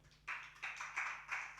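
A church congregation at Living God Church in Tiruvuru claps in steady rhythmic bursts, several waves of applause rising and falling close by, with no talking.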